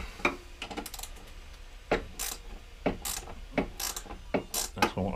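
A ratchet working a small 13mm nut on a Honda Izy engine, close-up bursts of quick metallic clicking with pauses between strokes, heard alone with no talk.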